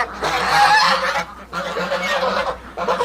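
Chinese geese honking loudly and close by, a flock calling in overlapping repeated honks that keep going for about three seconds with only brief dips.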